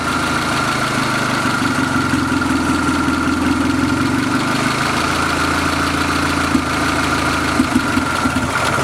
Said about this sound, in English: this is just the engine running with the distributor.